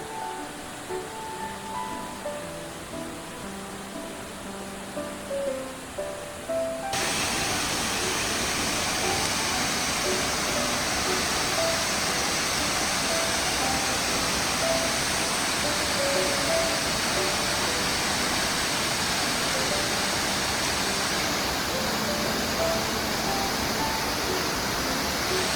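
An 88 m waterfall on Yakushima roars as a dense, steady rush of water that sets in after a quieter opening and holds unbroken and loud to the end.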